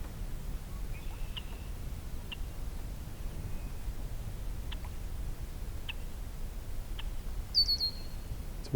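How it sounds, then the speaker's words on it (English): A red-winged blackbird sings at a distance across a beaver meadow, a few faint calls and brief high trills over quiet outdoor ambience. "It's a red-winged blackbird."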